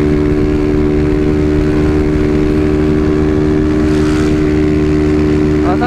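An engine runs loud and close with a steady droning hum, misfiring and holding back instead of revving fully, with a brief change in tone near the end.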